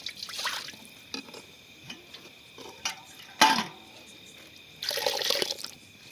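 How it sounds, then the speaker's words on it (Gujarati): Water is poured into a pot of dal during outdoor cooking for dal baati, with two splashy pouring bursts at the start and end, separated by scattered drips and clinks of metal cookware. "લો પાણી રેડોમાં"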